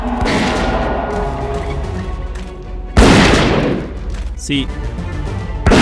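Gunfire and exploding rats in the video game Zeno Clash, with heavy booming blasts and dense crackling combat noise throughout, loud and close, with a person talking over it.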